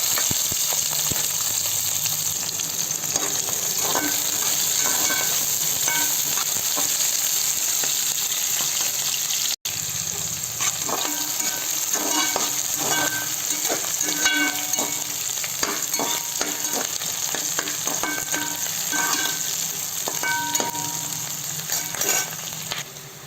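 Chopped onions and green chillies fry in hot oil for Telangana-style goat head curry, a loud continuous sizzle with bursts of crackling and spatter that pauses briefly and then returns, with no talk.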